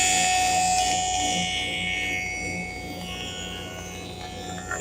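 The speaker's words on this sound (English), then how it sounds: "I'm just going to do a couple passes on the joiner and it will smooth those right up" A jointer whines steadily as it makes passes smoothing the rough top of wooden wedges. The high machine tone holds throughout and gradually eases slightly toward the end, with no voices.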